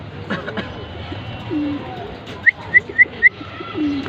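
Racing pigeons, hens, coo close by: a soft, low burbling, then four short, even-spaced calls in quick succession, over a faint murmur of background voices.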